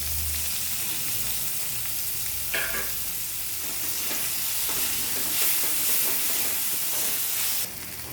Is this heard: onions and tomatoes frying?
yes